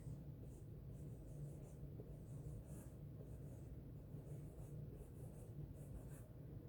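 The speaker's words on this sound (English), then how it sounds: "Let's write that word so you can look at it." Marker or chalk writing a word on a board in a classroom lesson on vowel teams, heard as quiet, steady scratchy strokes at low level with no speech.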